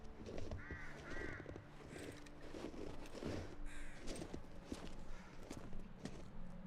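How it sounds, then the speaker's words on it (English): A raven caws a few times amid ambient video game noise, with hoof-like clopping and footsteps moving through the scene. "I think it's a raven."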